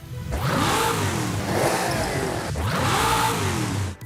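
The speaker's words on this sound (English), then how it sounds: "the ability to rev the engine during upgrade work" A car engine in the video game Forza Horizon 5 revs up twice, the pitch climbing and falling with each throttle burst, loud and close, no voices.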